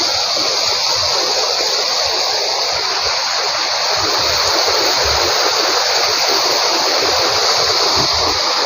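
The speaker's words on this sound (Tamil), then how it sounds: "தண்ணி பாருங்க எவ்வளவு ஃபாஸ்டா போய்க்கிறேன்னு" A fast-flowing stream swollen after rain rushes loudly and continuously up close, a dense unbroken gush of churning water with no voices over it.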